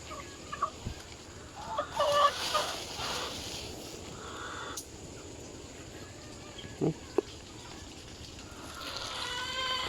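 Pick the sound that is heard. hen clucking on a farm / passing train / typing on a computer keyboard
hen clucking on a farm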